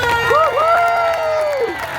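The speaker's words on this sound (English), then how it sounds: "a huge round of applause to both dogs" Crowd at a county fair dog show cheering and applauding for two dogs, loud close shouts and whoops with a rising voice over a dense bed of clapping.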